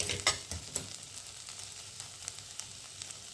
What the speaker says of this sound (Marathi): आता मसाला घातल्यानंतर पण ना एक मिनिट छान भाजून द्यायचं